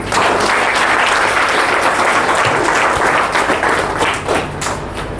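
Loud, sustained applause from an audience at a business talk, a dense wash of many hands clapping at once that fades slightly toward the end, with no talking.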